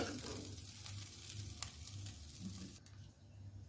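Shrimp frying in a pan, a soft, steady sizzle with faint crackle and a low background hum, quiet and close, with no talk.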